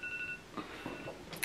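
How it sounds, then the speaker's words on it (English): A phone alarm goes off with a few short, faint electronic beeps, quiet and close, with some soft rustling movement around them. "That is my alarm"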